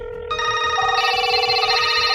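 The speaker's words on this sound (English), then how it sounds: "I don't like the sound of a phone ringing." A telephone bell rings loudly and continuously, with a bright electronic tone that thickens after a fraction of a second and rattles on steadily with no voices.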